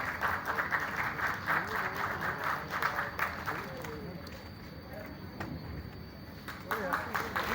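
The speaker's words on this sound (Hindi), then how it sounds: "तालियां आपकी" An audience at the Arts Council in Karachi applauds a play, with rhythmic clapping rising and dipping across the stretch while a host speaks over it through the middle.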